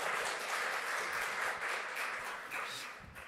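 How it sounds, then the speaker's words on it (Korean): A church congregation at an early-morning special prayer service claps in warm applause, a dense wash of many hands that holds steady and then gradually fades toward the end. "우리 격려 박수 한번 드릴까요?"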